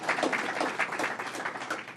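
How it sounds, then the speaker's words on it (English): Applause from an audience at a New York governor's press event on enforcement against unlicensed cannabis shops: a dense, steady wash of many hands clapping throughout, fairly close and even in loudness, with no speech. "Let's give her a round of applause as well."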